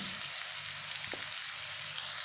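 Ground meat fries in a pan over medium heat with sugar, salt and broth, giving a steady close sizzle and crackle with no talk.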